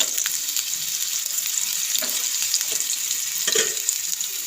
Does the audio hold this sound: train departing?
no